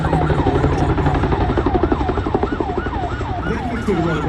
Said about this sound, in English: you can hear the siren activating on, all our helicopters have those, and that's to warn the crowd